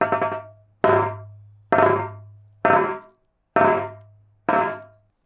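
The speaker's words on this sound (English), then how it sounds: "So this is the Bengali dhol." A Bengali dhol struck with sticks sounds six evenly spaced hits, each a sharp crack over a deep booming resonance that rings and decays before the next, loud and clear with no talking.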